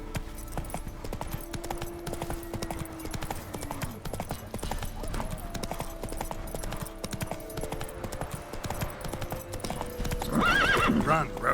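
A horse gallops in The Witcher 3, its hoofbeats in a fast steady clip-clop with game music beneath. Near the end the sound swells and the horse whinnies.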